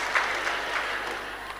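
A church congregation claps briefly during a prayer-meeting sermon, a steady wash of hand claps filling the room at moderate volume with no speech over it.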